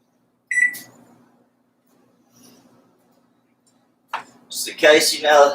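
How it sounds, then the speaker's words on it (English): A short electronic beep from a running microwave oven, followed by a faint hum, then a few clattering noises and someone starts talking close by. "that's my microwave making that noise"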